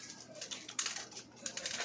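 A male pigeon coos softly nearby, with a few low, quiet coos and faint rustles over a hushed background.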